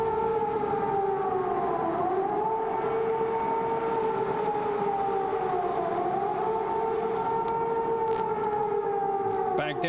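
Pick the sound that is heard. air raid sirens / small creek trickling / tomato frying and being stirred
air raid sirens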